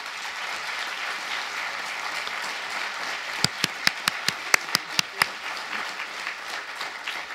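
An audience applauds a farm owner from Treviglio, near Bergamo, as he is welcomed onstage at a Basta Euro political rally in Milan. Steady crowd clapping runs throughout, with a cluster of sharper, louder individual claps near the middle.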